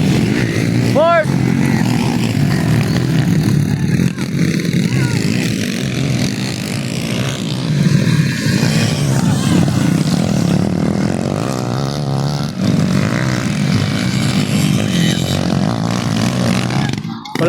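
Racing motorcycles roar around a race track during a competition, their engines droning and revving loudly and continuously, while a voice talks over the engine noise throughout.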